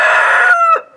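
A single rooster crow, loud and close, ends in a drawn-out falling note before cutting to silence.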